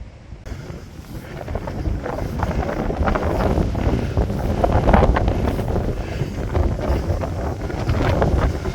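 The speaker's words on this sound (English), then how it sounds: "the wind's so strong it's hard to keep the camera still" Strong wind buffets the microphone in a continuous loud rumbling roar, gusting stronger through the middle, out in open Cornwall countryside.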